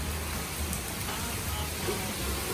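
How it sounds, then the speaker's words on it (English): Steady broadband hiss of rain falling, a continuous wash with low rumble underneath, no distinct drops standing out. "Raining now."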